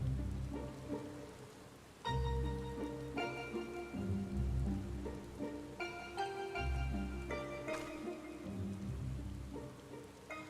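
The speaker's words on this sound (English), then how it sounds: "Oh, see, it's raining now" Rain falls softly in Final Fantasy XIV, a faint continuous patter under quiet melodic game music.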